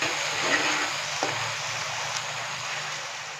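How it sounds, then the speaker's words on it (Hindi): Whole spices and finely chopped tomato fry in a pot for chana pulao, giving a steady, close sizzle with a faint scrape of stirring and no talking. "अच्छे से मिक्स करेंगे और थोड़ा सा हम इसको मज़ीद भून लेंगे।"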